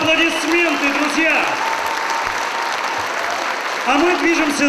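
Festival audience of foreign students in Voronezh keeps up dense, continuous clapping while a presenter's voice rings out over it near the beginning and again toward the end.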